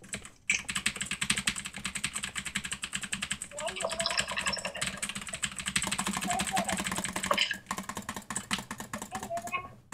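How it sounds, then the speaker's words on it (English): Rapid clacking of a computer keyboard, close and continuous, with brief pauses and a low background hum. "Can I hear your keyboard?"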